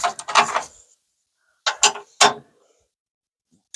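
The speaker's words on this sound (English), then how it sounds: "It's a ratcheting." The gear inside a paintless dent repair tool ratchets as it retracts, giving three short, close, clicky mechanical bursts separated by silence.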